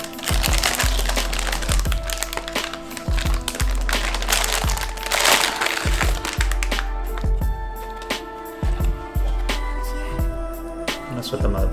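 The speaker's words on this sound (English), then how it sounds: "It comes in a static plastic bag." An antistatic plastic bag for a computer motherboard is handled up close, with steady crinkling and crackling over a repeating low thump, and talking runs underneath.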